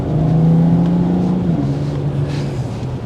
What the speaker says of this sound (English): I'm actually going pretty quick on the roundabout